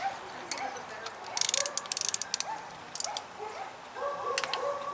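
A spark plug socket on a ratchet turns a spark plug out of a 2008 Honda Civic Hybrid, producing clustered bursts of crisp, close ratchet clicks between quieter stretches.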